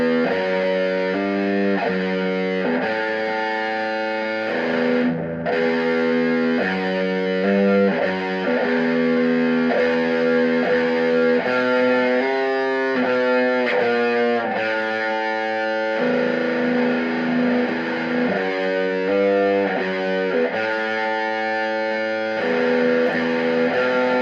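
Distorted electric guitar played through a 1988 Peavey Rage practice amplifier under repair, heavy fuzzy riffing with chugging chords and short pauses, loud and continuous with no talking.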